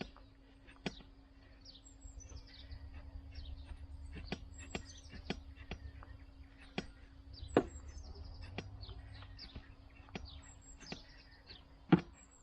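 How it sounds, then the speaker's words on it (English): Scattered bird chirps and calls ring out outdoors in a desert yard, some sharp and close, over a low steady hum and faint background noise. "You hear the birds in the background."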